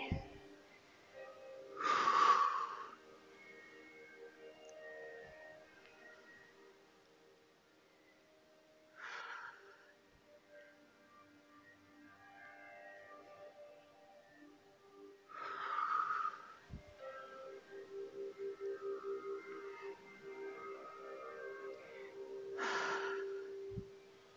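Breathing out and in during a back fitness class: several short, breathy puffs spaced seconds apart over a low, steady background, with some voice in the room.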